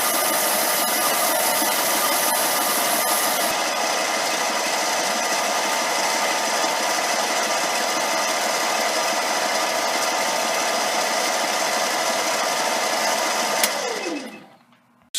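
A machine cuts steel during a steady-rest build, with smoke rising. A loud, continuous high-pitched whine and grinding hold steady for most of the run, then wind down abruptly near the end.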